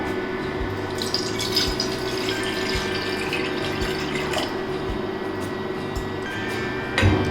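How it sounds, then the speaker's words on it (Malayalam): Continuous rushing of water pouring steadily into a cooking pot, with a faint background hum and a brief clunk near the end. "ഇനി നമുക്കിതിലേക്ക് ആദ്യം ആവശ്യത്തിന് വെള്ളം ഒഴിച്ചു കൊടുക്കാം"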